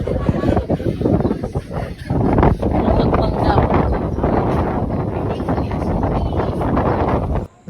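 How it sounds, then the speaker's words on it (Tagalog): Strong wind batters the microphone outdoors with loud, gusty rumbling that surges and dips, staying heavy almost throughout before cutting off abruptly at the very end. "sobrang lakas na ng hangin dito"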